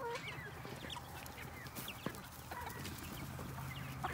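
Several hens cluck continuously in a farmyard flock mixed with young chicks, with a rooster nearby; a steady low chorus with occasional sharper calls and chick peeps, no talking.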